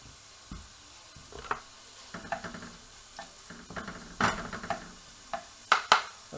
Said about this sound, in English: Now we're throwing it in the skillet with 2 slices of bacon that I cut up quite similarly.